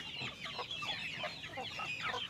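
Free-range village chickens in a small backyard flock clucking close by, several birds overlapping in a busy, continuous chatter of short calls with no talk.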